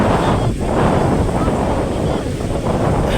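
Cool wind blowing at Dwarka, a loud continuous rush buffeting the microphone, with a distant low surf-like roar underneath and no clear voices.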